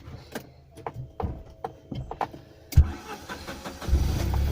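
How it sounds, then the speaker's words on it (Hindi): A Tata Nano car engine started up nearby after a series of clicks and cranking attempts. It catches with a sharp burst and then settles into a rough, steady idle that fills the rest of the clip. "गाड़ी को कर लेते हैं स्टार्ट"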